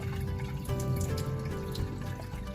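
Sushi rice being rinsed a final time in water, with steady sloshing, trickling and dripping close by, fairly quiet and continuous, with no talking.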